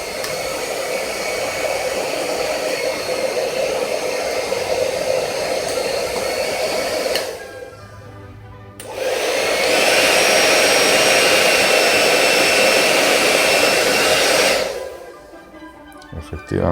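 A repaired hair dryer runs and heats with a loud, steady whooshing blow. It cuts out briefly, starts up again, then stops near the end, with no talking.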